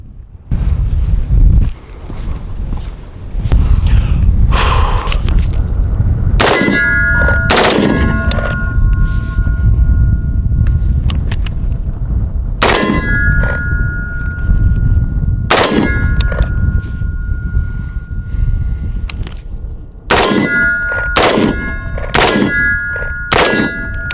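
Rapid gunshots from a rifle fitted with a Hoffman Tactical trigger kicker, fired outdoors in quick bursts separated by pauses, each volley loud and close with sharp metallic ringing after the shots.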